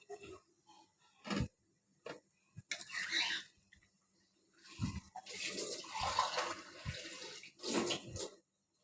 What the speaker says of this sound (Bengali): আর এতে ব্যবহার করছি আমি ঝোলের জন্য গরম পানি